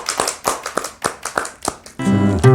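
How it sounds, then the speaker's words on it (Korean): A church congregation claps in scattered, uneven bursts at a Sunday service, fairly close, before sustained music swells in at the end. "감사와 영광의 박수 드립시다."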